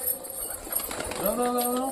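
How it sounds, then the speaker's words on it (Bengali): Lotan pigeons coo softly at close range in a pet loft, the low rolling calls building toward the end over a faint background of murmuring. "তো পায়রাগুলো ঠিকঠাকই আছে সবকটা হেলদি আছে"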